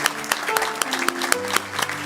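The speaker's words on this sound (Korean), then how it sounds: "우리 힘차게 격려의 박수 퇴장할 때까지 보내겠습니다." A church congregation applauds during a New Year's Day Sunday worship service. Steady clapping runs throughout with sharp accents, over sustained music playing in the hall.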